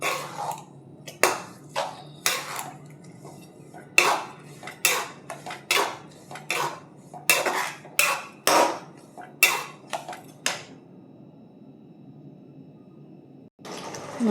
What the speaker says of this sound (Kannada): ಈಗ ಕಲಿಸಿ ಕುದಿಸ್ರಿ ಇದನ್ನು